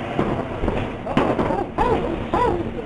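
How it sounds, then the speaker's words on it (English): Several sharp gunshots from an NFTA transit police officer ring out at irregular intervals, about four shots, with a voice talking in between and around them. "Audibly, what sounds like 4 shots."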